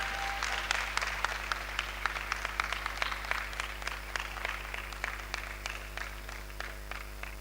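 Sustained applause from an audience at an International Women's Day event, many hands clapping steadily at moderate volume with sharper individual claps standing out throughout.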